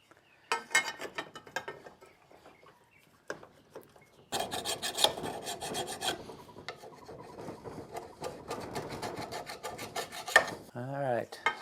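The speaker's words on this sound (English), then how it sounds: "metal file. It has a nice sharp edge on the end to take the debris off of the lawnmower blade." Metal file rasping along the edge of a lawnmower blade to clear debris, a close run of quick, rough scraping strokes in bursts, pausing now and then, louder and denser in the second half.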